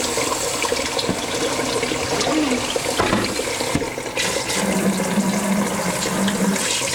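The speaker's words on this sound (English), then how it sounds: "I'm going to go ahead and dump the water out of this and rinse it out." Water is dumped out of a fish tank canister filter chamber, a continuous close sloshing, gushing pour lasting several seconds with a few clunks of the plastic canister and no talking.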